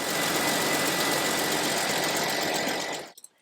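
The engine of a Jeep Cherokee XJ runs with a steady, loud, close drone, then cuts out abruptly just before the end.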